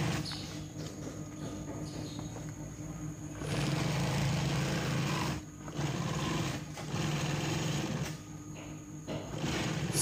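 A sewing machine stitches fabric for an auto-rickshaw hood, running continuously for ten seconds with a rapid mechanical chatter that swells and dips slightly in speed.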